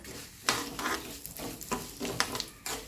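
Cashews frying in oil in a pan for mosaranna (curd rice) tempering: a soft sizzle broken by several brisk stirring scrapes in an irregular rhythm, close and moderately quiet, no talking.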